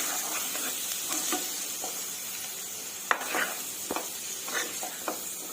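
Boiled chickpeas stirred into a masala in a pan for chole curry, with soft scraping strokes and a few sharper spoon clinks over a low, steady sizzle, close and alone without talk.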